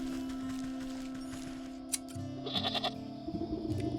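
A goat in the video game Wytchwood bleats in protest while being sheared, several short quavering cries in the second half over a steady game music and ambience bed.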